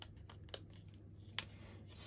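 Quiet, close snips of scissors cutting out a handmade paper card, a few sharp isolated cuts with soft rubbing of the card between them.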